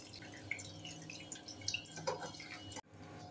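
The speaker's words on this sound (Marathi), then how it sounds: "आता हे डाळ आणि तांदूळ आपण धुवून घेऊया।" Moong dal and rice being washed in water: short, soft splashes and drips close by, with a sudden drop to near silence at the end.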